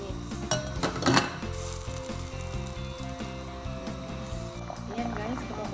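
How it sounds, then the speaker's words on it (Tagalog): A seabass coconut milk stew with squash and water spinach bubbles in a pot, a steady close simmering and sizzling hiss with faint utensil clinks throughout, under low background noise. "kumukulo na"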